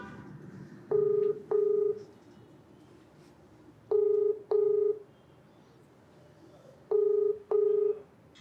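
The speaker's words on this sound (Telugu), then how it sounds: "కాల్ చేస్తాను కళ్యాణ్ గారు." Telephone keypad tones beep in quick pairs, three sets of two evenly spaced, clear and close over faint background noise, as a number is dialed on a phone.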